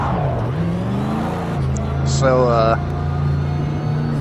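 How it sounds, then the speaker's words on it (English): Chelsea DeNofa's RTR Formula Drift Mustang in Project Cars 2, its engine droning steadily at a sustained pitch with a rising whine from the gearbox partway through, running under a voice. "I get mesmerized by the sound this car makes. The sound of the vicious gearbox"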